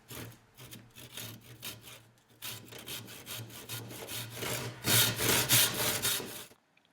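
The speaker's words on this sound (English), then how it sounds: "cut the leg of the table out of a 1-inch wood dowel" A handsaw cuts through a 1-inch wooden dowel for a table leg, a steady series of close, rasping back-and-forth strokes with a brief pause, then faster, louder strokes before stopping.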